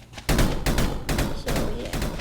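Repeated heavy shotgun blasts in a video game firefight, four or five loud booming shots at roughly even intervals, each with a deep thump and brief tail.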